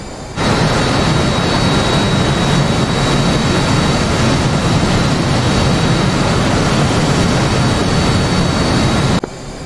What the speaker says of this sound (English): Listen to these weedy little engines.